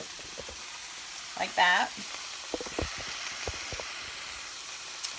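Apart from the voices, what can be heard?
asparagus dropped into hot pan, sizzling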